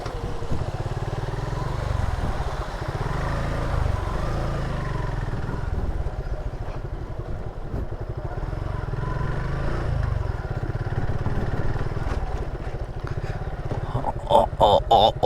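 A motorbike rides along a riverbank on the road toward Jaflong in Sylhet, its engine a steady low drone throughout, with voices talking over it and brief louder rattles near the end.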